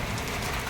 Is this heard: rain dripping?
yes